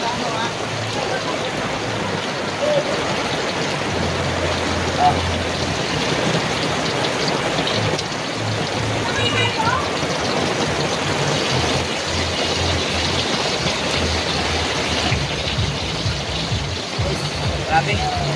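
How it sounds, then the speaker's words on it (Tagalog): Heavy rain pours steadily onto a flooded street, a dense unbroken hiss with low traffic rumble and a passing truck, while someone talks over it. "Lakas ng ulan guys, oh."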